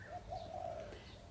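Garden birds in a backyard, a pigeon or dove cooing softly alongside faint chirps, distant and quiet over low ambient background noise.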